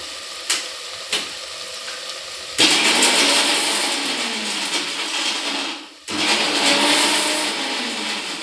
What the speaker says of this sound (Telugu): మిక్సీ శబ్దం డిస్టర్బెంట్ అవుతుందేమో ఏమనుకోవద్దండి